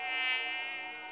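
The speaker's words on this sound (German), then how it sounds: "Oh, diese Mücken, ey." Mosquitoes give off a steady, high-pitched whining buzz that holds for about a second, thin and fairly faint, with no voices.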